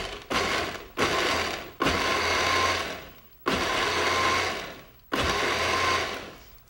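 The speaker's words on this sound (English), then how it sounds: "I am going to pulse on the chop feature" A food processor on its chop setting whirs in five loud pulses of a second or two each, separated by short gaps, as it blends fresh strawberries into sorbet.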